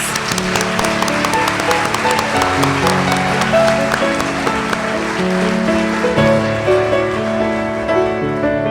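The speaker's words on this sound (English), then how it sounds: "Let's give all of our Teachers of the Year another round of applause." Applause from a gala audience honoring Teachers of the Year, a dense steady clatter of many hands that runs loud and unbroken for the whole stretch, with music-like tones mixed underneath.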